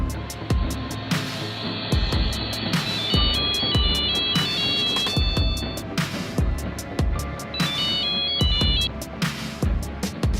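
A phone ringing on a call, electronic ringtone bursts repeating in a regular pattern of chirping tones with short gaps, over background noise and thumps, no speech.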